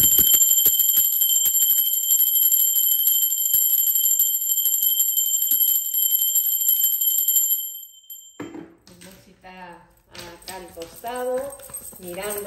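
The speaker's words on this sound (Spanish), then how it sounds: "Ahora sí, va campana." A bright ringing bell sustaining a long, steady high tone for several seconds, then cutting off as a person starts speaking.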